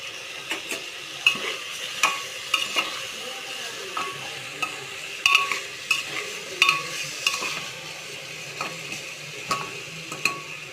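Chicken pieces frying in a pan with turmeric, a constant close sizzle broken by repeated sharp scrapes and clinks as a utensil stirs the meat.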